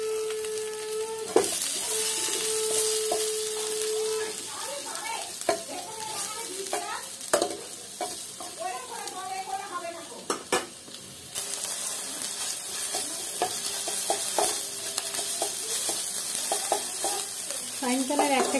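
Whole spices tempering in oil in a nonstick pan give a loud, continuous sizzle and crackle, with stirring scrapes and clatter now and then.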